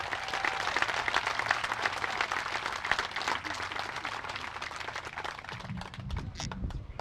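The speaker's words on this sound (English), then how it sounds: "Give yourselves a round of applause for turning out for one of our own." Audience applause fills a community dedication ceremony for a softball field, a dense, steady wash of many hands clapping at close-to-mid distance, holding level throughout with some crowd murmur underneath.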